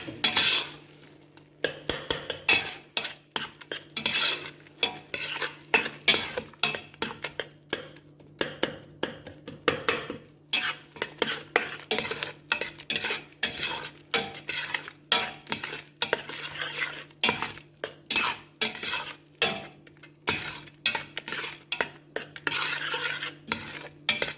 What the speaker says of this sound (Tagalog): Halo-haluin po natin guys.